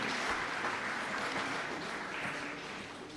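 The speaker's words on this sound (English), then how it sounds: "let's put a round of applause for the candidates who completed the SCI training" A graduation ceremony audience applauds the candidates who completed their training, a soft, steady crowd clapping heard from a distance without voices over it.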